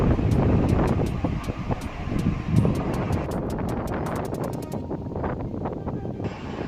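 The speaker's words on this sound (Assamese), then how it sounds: "আৰু বতাহও দি আছে" Evening wind blows outdoors over newly planted paddy fields, buffeting the microphone in a low, gusty rumble, with faint rhythmic ticking pulses running alongside.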